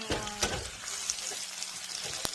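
Bell peppers sizzle and fry in a hot pan turned down to medium, with stirring scrapes and a few sharp clicks of the spoon against the pan over a steady crackle.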